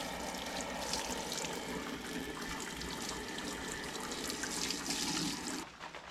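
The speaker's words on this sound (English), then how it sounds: "So now we're getting ready to sparge." Continuous rushing water from sparging an Oktoberfest beer mash, a steady close splash and gush that holds level before cutting off near the end.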